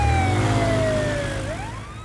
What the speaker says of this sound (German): Meine Sirene klingt überhaupt nicht so,